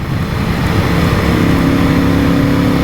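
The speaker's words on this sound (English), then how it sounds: "the induction noise is beautiful, and the engine is gorgeous" Air-cooled V-twin of an elderly Moto Morini 3 1/2 motorcycle running close up, a loud continuous throbbing engine note with induction noise and no talk.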